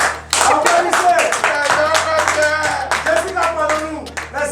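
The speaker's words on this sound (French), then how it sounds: "Applaudissez." Audience applause from a crowd of children at a school event, steady hand clapping sustained for several seconds with some voices mixed in.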